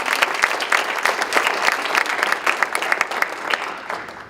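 A round of applause from an audience at a panel discussion, steady dense clapping that fades toward the end, with no talk over it.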